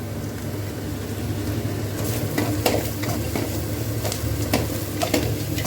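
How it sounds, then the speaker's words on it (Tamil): Onion, capsicum, dal, mustard seeds, ginger and garlic sautéing in a pan for chilli idli: a continuous close sizzle and crackle with occasional scraping stirs of a spoon against the pan. "நல்லா நீங்கள் டோஸ்ட் பண்ணி வணக்கிக்கிட்டுங்க."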